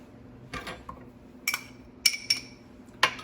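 Cooked fresh corn kernels go into a bowl, giving a few sharp light clinks and taps against the bowl with quiet scraping between, close and without talk.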